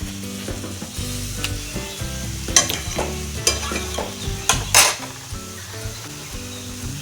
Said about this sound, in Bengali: আর একটু লাড়াচাড়া করে নিচ্ছি।